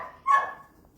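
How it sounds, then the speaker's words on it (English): A dog barks once indoors during a home cooking show, a single sharp yelp in the background of a kitchen with no talk over it. "there goes the dog again"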